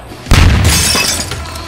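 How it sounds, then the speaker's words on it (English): A grenade blast breaches a door: a sudden loud, sharp explosion with a shattering crack, followed by a sustained roaring rumble and debris noise that slowly tapers off. "Got a good grenade? Breach it. Grenade out."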